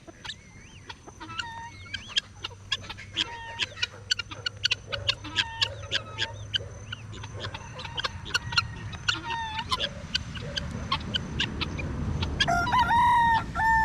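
Chickens in a country yard cluck in frequent sharp, close calls against a low outdoor background, with a louder squawking burst at the very end.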